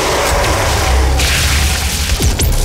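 A dense, loud rumbling blast fills the whole clip, a continuous booming roar with whooshing sweeps near the end, from explosions in the video game DOOM (2016).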